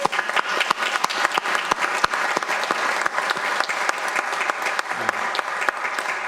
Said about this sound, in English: I think we should really give these ladies a round of applause